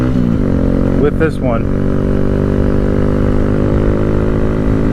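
Steady engine drone of a 2023 Honda Z125 Pro motorcycle while riding, a loud continuous hum at cruising speed with someone speaking briefly over it.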